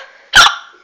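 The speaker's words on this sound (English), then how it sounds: "Oh, got the hiccups." A single sharp hiccup bursts out loud and close, a short voiced catch lasting under a quarter second against near silence.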